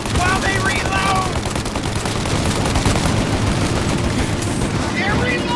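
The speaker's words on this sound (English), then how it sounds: "Shoot out their gun when there's a break in the fire!" Dense, continuous gunfire from a shootout in the video game Mafia, loud rapid automatic bursts layered over one another with shouting voices mixed in.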